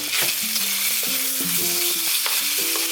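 Sauce with pepper and a spoonful of oligosaccharide syrup mixed in a pan with shaved pork belly and spinach, a steady loud sizzle with scraping stirs, and tonal music playing throughout.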